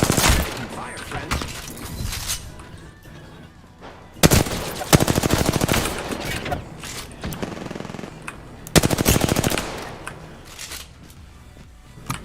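Rapid automatic gunfire in a video game, with bursts near 4 and 9 seconds amid continuous combat noise, loud and close.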